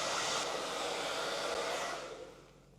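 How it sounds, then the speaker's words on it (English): A hair dryer blows steadily while drying curly hair, a close, loud, even whoosh that fades away over the last second. "as I'm drying it, I'm not ever raking my fingers through it"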